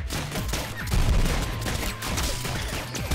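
Gunfire and explosions in a modded Rounds shooter video game, with dense rapid shots and bursts overlapping continuously at close range, loud and with no voices.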